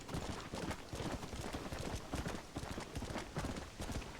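A horse gallops in the western game Red Dead Redemption, steady rapid clip-clop hoofbeats running through the whole stretch at moderate loudness, with no talk over them.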